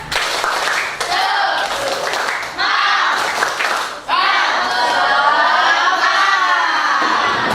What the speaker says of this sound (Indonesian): Tepuk semangatnya bisa?